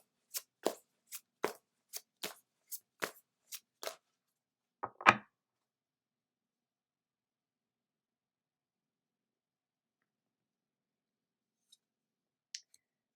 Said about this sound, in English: Next, we'll pull a card from the Angel Wisdom Tarot